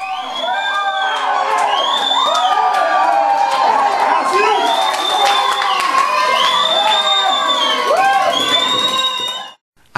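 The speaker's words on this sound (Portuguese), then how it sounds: "O craque Neymar faz a festa torcida" Football fans cheer Brazil's opening goal, scored by Neymar against Cameroon, with a dense, sustained roar of crowd noise, whoops and children's shouts rising and falling for the full ten seconds before cutting off abruptly.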